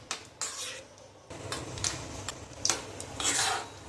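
Cashews being roasted in ghee and oil in a pan for barnyard millet pongal, giving a soft, close rasping and scraping of stirring against the pan in several bursts over a low steady sizzle.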